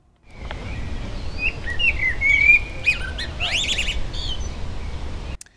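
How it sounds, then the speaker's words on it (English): An urban blackbird sings a sequence of whistled and twittering notes, including rapid rising sweeps, over a steady low hum of city background noise, close and without any talk. "And this, the song of an urban blackbird."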